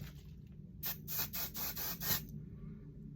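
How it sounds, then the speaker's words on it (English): Five quick bursts of a hand pump spray from a bottle of Tress Tech leave-in conditioner misted onto hair, close and fairly loud in a steady rhythm, with a quiet room around them. "I'm going to spray this on, but I'm also going to make sure that I spray it in the nape"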